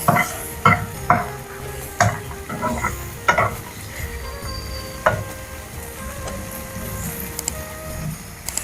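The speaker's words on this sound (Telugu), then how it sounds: "టమాటా ఇట్లా కొంచెం ఫ్రై కాగానే ఎండుమిర్చి వేయాలి." Tomatoes and dried red chillies fry in a pan, a steady sizzle running underneath repeated scraping and clinking stirs of a utensil against the pan.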